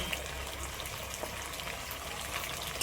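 A steady, fairly quiet sizzle of fried tomato, black pepper, hot chilli and Kashmiri chilli paste in a hot pan, continuous crackle with no talking.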